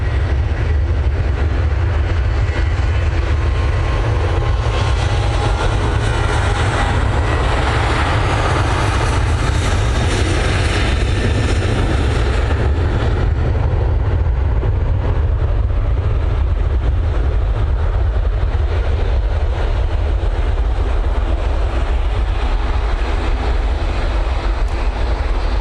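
A Ryanair airliner bound for Bologna departs Manchester Airport, producing a continuous loud jet roar that swells around the middle and then settles into a sustained rumble, with no voices heard.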